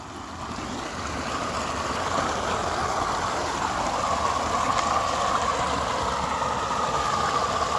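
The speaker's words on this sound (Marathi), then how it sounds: "हे बघा धबधबा" Falling water from a waterfall near an academy after rain makes a steady, broad rushing roar that swells slightly at the start and then holds constant, loud and close, with no voices.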